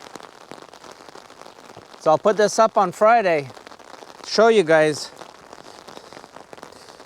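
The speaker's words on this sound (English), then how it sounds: "Look at the rain coming down. You can hear it on my umbrella." Rain falls steadily on an umbrella during an ice storm, a close, continuous patter running throughout while someone speaks briefly in the middle.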